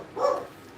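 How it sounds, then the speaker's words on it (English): A single short dog bark, fairly faint and somewhat distant, sounds once from a home where someone is talking about football, with quiet room noise around it. "Sorry, dog's gonna bark for a minute."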